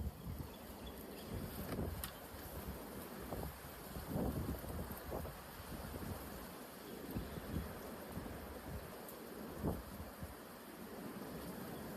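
Wind buffets a microphone outdoors, a steady rumbling roar broken by irregular louder gusts and thumps, with no voices.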